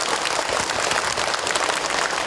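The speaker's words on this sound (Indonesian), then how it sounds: "Tepuk tangan buat kita semua." An audience claps together at a religious talk, a dense, steady wash of applause filling the short moment without pauses or voices.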